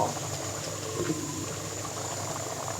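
Shol fish curry with bean seeds simmering in a pan, a steady low bubbling and hiss of gentle boiling, close and even for a few seconds.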